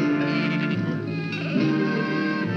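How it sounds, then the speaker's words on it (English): Sheep bleating on a lawn in a 1955 television show, a loud, wavering bleat held for a couple of seconds over a thin background hum. "She has her nerve herding her sheep across our lawn"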